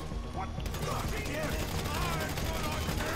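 Rapid gunfire rattles through Grand Theft Auto V gameplay, a dense stream of shots mixed with game noise and talk from players, steady and loud throughout.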